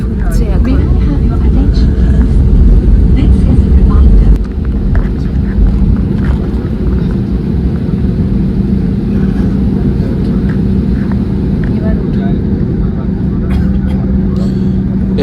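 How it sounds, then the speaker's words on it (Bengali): Steady loud low rumble inside an IndiGo airliner taxiing onto the runway at Kolkata airport, with a slight drop in level after a few seconds and faint cabin sounds above. "এবার রানওয়েতে উঠলো"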